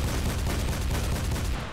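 Dense, continuous gunfire from the video game Double Action, loud rapid shots blurring into one another without a break.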